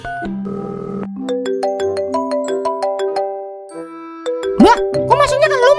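A melodic electronic phone ringtone plays a bright repeating tune of stepped tones, loud and close, with a burst of livelier chiming notes near the end.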